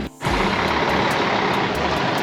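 A loud, close diesel truck engine at a port rumbles continuously, with a brief hiss at the start and a steady roar throughout.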